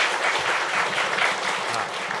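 Group applause at a meditation session in a practice hall, a steady wash of many hands clapping together throughout without pause or voices.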